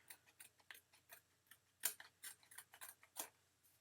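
Scissors snip paper in a series of short, crisp cuts at an uneven rhythm, close and fairly quiet.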